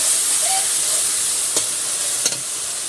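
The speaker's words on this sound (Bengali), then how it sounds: "এবার সব মশলাগুলো আমি সুন্দর করে ভেজে নেব। মশলাগুলো আমি ভালো করে কষিয়ে নেব।" Spices fry in hot oil for a Bengali fish and vegetable broth, giving a steady close sizzle and hiss with a couple of light stirring scrapes.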